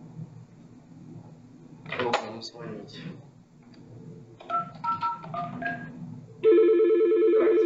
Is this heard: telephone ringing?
yes